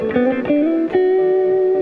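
Clean electric guitar notes ring out through a Train Wreck amp, a few plucked tones sliding into a sustained, glistening chord that holds steady, close and fairly loud.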